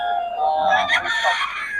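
Loud, close chicken calls, a drawn-out crow-like cry blending with clucking over a brief moment.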